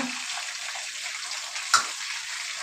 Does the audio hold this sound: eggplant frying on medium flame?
yes